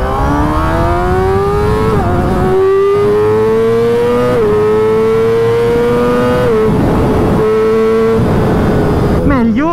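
Yamaha R6 (2006) sport bike accelerating hard through the gears, its loud, close inline-four engine wailing upward with a rising pitch that drops sharply at each upshift, repeating several times.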